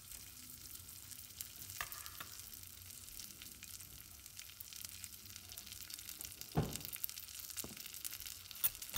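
Urad dal and chana dal roasting in oil in a pan, a steady close sizzle with occasional scraping stirs and clicks of a spoon against the pan.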